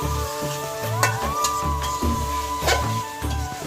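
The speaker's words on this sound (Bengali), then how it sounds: "সম্পূর্ণ মশলা দিয়ে ভালো করে আলু, চাল আর এই যে মশলাটা ভালো করে কষানো হবে।" Potatoes and rice being fried and stirred with whole spices and masala in a pan, giving a steady close sizzle broken by repeated scraping strokes against the pan, with a low hum underneath.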